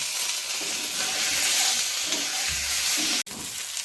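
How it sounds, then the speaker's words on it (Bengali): A paste of ginger, chili and fennel with ground cumin fries in hot oil, giving a loud, close, hissing sizzle that briefly cuts out near the end. "এবারে এটাকে খুব ভালোভাবে একটু ভেজে নেব"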